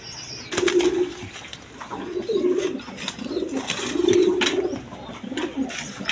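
A pair of big Lahori pigeons, a male and a female, coo repeatedly at close range in a low, throaty rhythm, with a few soft wing rustles and no talking.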